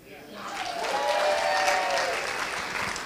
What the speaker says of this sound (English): we'll applaud her on her behalf